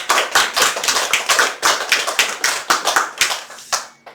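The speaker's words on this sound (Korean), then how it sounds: "박수 한번 쳐주시기 바라겠습니다." A church congregation at a Sunday Pentecost service claps together in a steady rhythmic burst of hand claps, close and fairly loud, fading out at the end.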